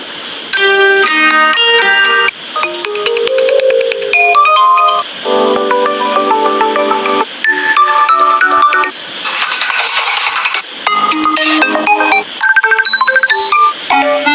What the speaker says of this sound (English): Now choose for any ringtone.